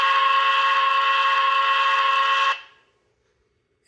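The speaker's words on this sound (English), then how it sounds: "we are going to blow the whistle and cut power." A Broadway Limited PRR B6sb model locomotive sounds its whistle in one loud, steady, chord-like blast of about two and a half seconds, which then cuts off abruptly into silence as power is removed.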